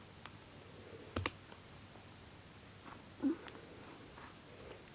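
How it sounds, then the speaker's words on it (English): A Rolson multi tool's scissors are pulled out, giving a few faint metallic clicks and snaps close by against a quiet background, with one sharper click early on. "Then if I pull the scissors out,"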